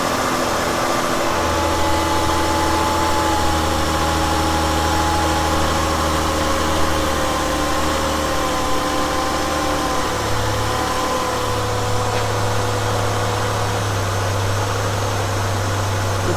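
A Ford Escape engine running at a high idle of around 1800 rpm with a P1506 idle fault, a steady close droning hum that shifts slightly in pitch partway through, with no talking.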